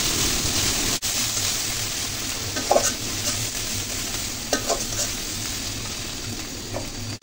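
Ginger, garlic and onion fry with turmeric, cumin and coriander, a steady close sizzle broken by occasional scraping stirs against the pan.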